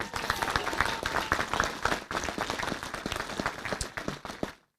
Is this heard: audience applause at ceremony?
yes